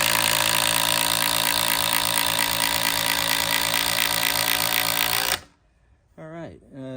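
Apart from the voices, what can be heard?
impact driver driving a fastener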